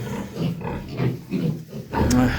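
Piglet grunting in short bursts on a farm during weaning, close and fairly loud, with a person's voice mixed in among the grunts.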